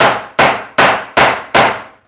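Hammer blows knocking out part of a broken chair: five loud, evenly spaced clanging strikes, each ringing and decaying before the next, close and alone.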